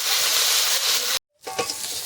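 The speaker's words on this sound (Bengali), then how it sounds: "এই চিংড়ি মাছটা আগে ভেজে নেব" Prawns fry in hot oil in a wok, a loud dense sizzle that cuts out abruptly for a moment, then resumes with bubbling crackle.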